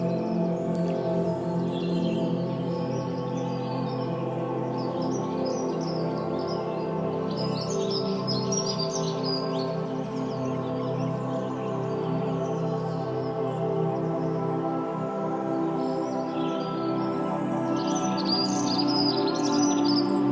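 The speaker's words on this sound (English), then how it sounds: "They are a species of animal that symbolizes the wonders of nature with their diverse chirping" Wild birds chirp in short, scattered bursts of tweets over a steady sustained musical drone.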